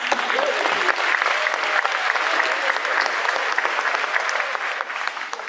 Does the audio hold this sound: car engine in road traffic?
no